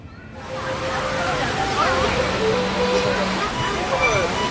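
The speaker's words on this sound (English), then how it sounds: "I'll show you the video I took previously when I was here before the pandemic. And this pool area with lots of people splashing around." Busy resort pool with many people splashing around, a continuous watery sloshing wash with scattered distant voices and shouts mixed in, under a nearby voice talking.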